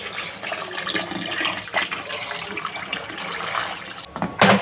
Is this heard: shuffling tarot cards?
no